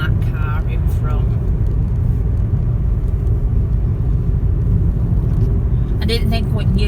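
A car drives along a road from inside the cabin, a loud, steady low rumble of road and engine noise continuing throughout, with someone talking over it.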